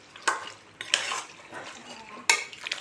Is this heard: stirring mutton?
yes